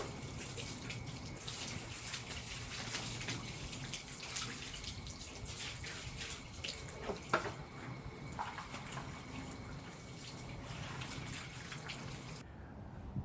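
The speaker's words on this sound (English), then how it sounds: "I just gave it a quick rinse." Water sprays steadily over a car's wheel well splash guard, a continuous broadband hiss and splatter lasting throughout, with a brief sharper splash midway and the flow cutting off near the end.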